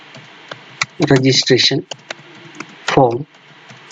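Sparse clicks from a computer keyboard tap out beneath a person talking, with a few isolated keystrokes heard between the spoken phrases.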